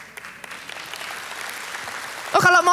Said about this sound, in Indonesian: Oh kalau mau tepuk tangan dong